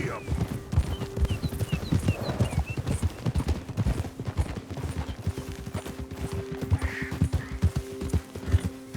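A horse gallops in Red Dead Redemption 2, a rapid rhythmic clip-clop of hooves running throughout, with a brief whinny and characters talking over it.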